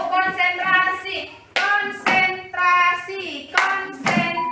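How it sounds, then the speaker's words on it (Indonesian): Rhythmic hand claps from the tepuk konsentrasi clapping game land in regular bursts, mixed with voices chanting along between the claps. "tangan tetap tepuk konsentrasi"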